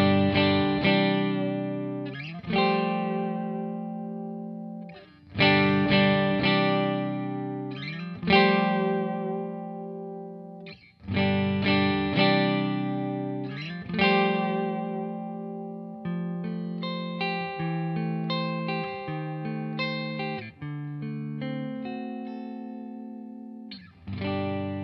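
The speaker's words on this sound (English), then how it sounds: "go through the pickups and do some clean tones and some dirty tones" A Gretsch G5230T Electromatic Jet electric guitar strums ringing chords then picks busier single-note phrases, driven with a gritty edge, struck in repeated bursts that decay between hits, close and unaccompanied.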